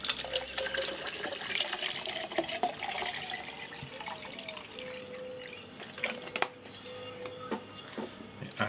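Water pours steadily from a tap into a shaker bottle holding energy drink powder, a continuous splashing trickle with small drips, fairly quiet and close, with no talking.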